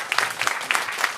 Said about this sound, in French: On l'applaudit à nouveau.